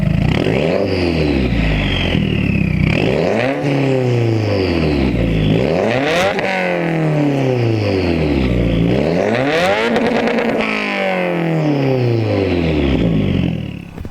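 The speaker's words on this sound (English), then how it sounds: "I'll leave an exhaust clip." A 2017 Subaru WRX with a Tomei Extreme catback exhaust and downpipe revs hard repeatedly, rising and falling through the gears with a loud raspy exhaust roar, close and continuous.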